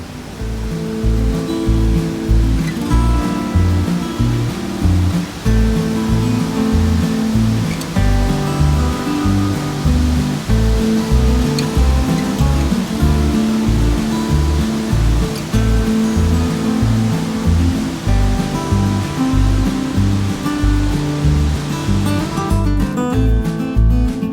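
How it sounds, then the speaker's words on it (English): The Yellowstone River pours over the brink of the Lower Falls in Yellowstone National Park, a loud, steady, roaring rush of falling water heard up close without pause. "hiked down to the brink of the lower falls, watching the river cascade over the edge"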